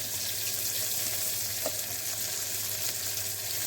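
Mustard seeds and onions fry in hot oil for a vegetable pulao, giving a steady, even sizzle throughout with a single faint pop partway through and no voices.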